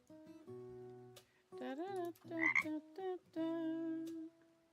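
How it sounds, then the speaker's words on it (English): A frog croaks several times in quick succession, each a buzzy, tonal call with short gaps between, fairly close and quiet, with no voices over it. "I just heard the croak."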